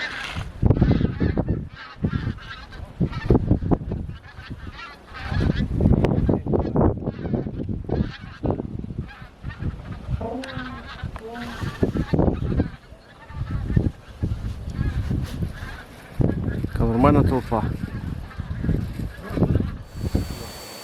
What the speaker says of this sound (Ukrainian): Гуси летять.